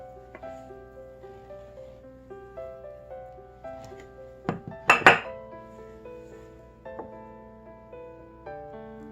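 Dishes clink against a glass tray as pie crust for a 16th-century Tudor apple tart is unrolled onto it, a few sharp knocks and clatters clustered mid-clip over faint background hum, close by with no talking.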